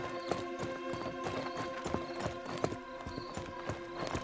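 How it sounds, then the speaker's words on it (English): Footsteps in the game Pantheon: Rise of the Fallen, a steady, evenly paced series of hard, hoof-like clops repeating about twice a second, quiet and with no talk over them. "Then we don't have to listen to those footsteps anymore"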